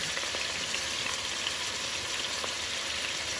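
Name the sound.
oxtails browning and sizzling in a pan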